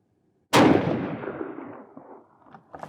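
A Savage 10FP rifle in .308 Winchester fires a single loud shot at an outdoor range, the sharp crack rolling into a long fading echo with faint rustling afterward.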